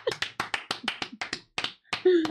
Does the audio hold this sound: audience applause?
yes